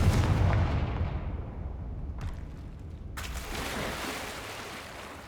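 A Confringo spell blast in the Hogwarts Legacy video game booms loudly at the start and fades into a rumble, with a sharp crackle and then a hissing burst following.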